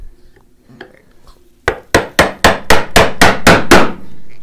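A chisel chopping a mortise in wood takes about nine sharp, evenly spaced mallet blows in quick succession, loud and close, after a few quiet handling taps.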